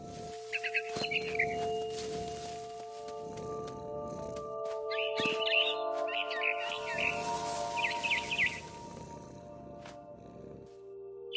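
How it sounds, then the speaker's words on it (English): High, twittering chirps of a barn swallow in What Remains of Edith Finch come in several short bursts spread across a steady ambient backdrop, moderately clear and close, with no voices. "Then I heard chirping outside my window. It was a barn swallow going back to her nest."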